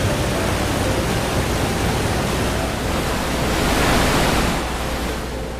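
River water rushes steadily in the Final Fantasy XIV dungeon The Weeping City of Mhach, a loud broad wash of flowing water that stays constant, swelling slightly near the end, with no voices.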